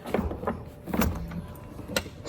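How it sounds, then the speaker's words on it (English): The soft-closing door of an Audi Concept C is pulled shut by its motor, a series of quiet mechanical clicks and a low motor whir at close range, faint overall with no voices. "Closing the door."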